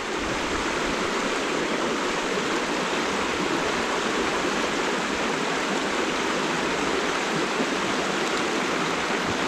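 A Slovak trout stream rushes over broken, mixed water, producing a steady, dense wash of flowing river sound close by with no pauses and no voices.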